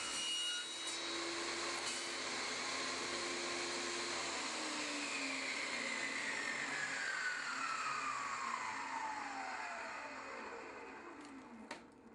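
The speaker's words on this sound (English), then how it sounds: "By making several slow, shallow cuts, the plexiglass is left with a smooth finish" Saw blade making slow, shallow cuts through plexiglass sheet, a steady loud whine and rasp that runs throughout with a tone sliding downward as the cut slows, ending with a brief clatter.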